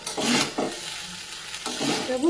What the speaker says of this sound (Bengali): এবার ভালো করে ওপর নিচ করে সবগুলো মিশিয়ে নেবো।